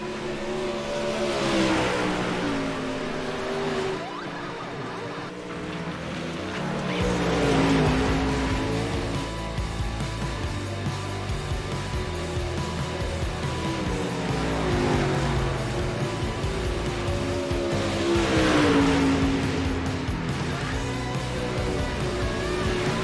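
Race cars lap a Knoxville dirt track at a night racing event, engines roaring loud and steady with repeated rising and falling passes, no talk.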